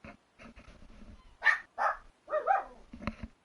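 A puppy gives several short barks and yips in quick succession, fairly close, with quieter shuffling sounds between them and no talking.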